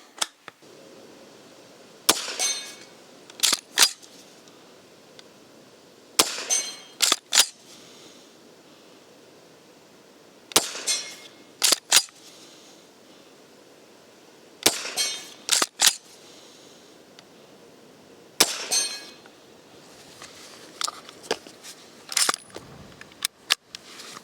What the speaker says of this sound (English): you can just use the other hand to drop the magazine out. Next one goes in, drop the magazine out, next one goes in.